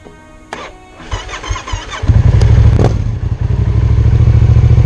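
A Yamaha XSR700 motorcycle with a fault code showing cranks briefly with a whirring starter and clatter, then catches and settles into a loud, close, steady idle with no talking.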